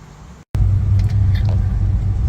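A 1973 Lincoln Continental Town Car drives down the road, giving a steady low engine and road rumble that cuts out briefly, then returns loud and even for the rest of the stretch.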